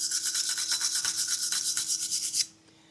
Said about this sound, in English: I'm just gonna take my wire brush and get in the spots that couldn't.